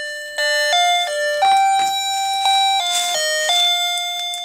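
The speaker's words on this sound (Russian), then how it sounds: "это мы купили звоночек для того, чтобы повесить. Вот это на улице вешается. Беспроводной звонок." A wireless outdoor doorbell plays a loud, clear electronic chime melody of bright ringing tones in steady succession, heard alone up close.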